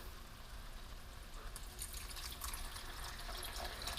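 Stock poured into a pot of jambalaya, a soft continuous splashing and trickling of liquid that grows slightly fuller partway through, heard faintly and alone.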